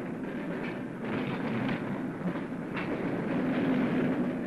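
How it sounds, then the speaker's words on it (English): An Amsterdam tram to Zandvoort departs along rails with a steady low rumble and soft rattling, moderately loud and continuous, with no voices. "Dag in, dag uit, 50 jaar lang vertrok zo uit de Spuistraat in Amsterdam de blauwe tram naar Zandvoort"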